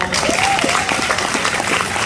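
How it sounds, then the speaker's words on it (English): An audience at a movie premiere Q&A gives a round of applause. The clapping is loud, close and thick, and it holds steady for a couple of seconds. "give her a round of applause."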